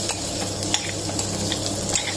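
Coconut milk curry bubbling in a pot for coconut sodhi, a steady close bubbling and sizzling hiss with a few soft stirring clicks, no voices.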